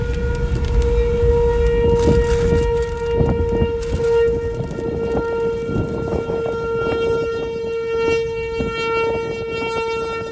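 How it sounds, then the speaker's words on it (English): Tornado sirens in western Minnesota wail steadily at a high, sustained pitch during a tornado touchdown, with a low rumbling background throughout. "Tornado sirens."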